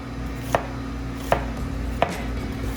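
A knife chops onions on a cutting board in three separate, evenly spaced sharp knocks, close and clear over a quiet kitchen background with no speech.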